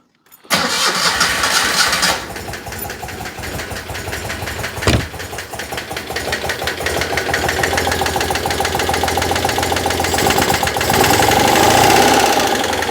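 A Citroën 2CV engine, throttle and choke cables not yet connected, cranks briefly, then catches and runs at a steady, slightly rough idle throughout, loud and close.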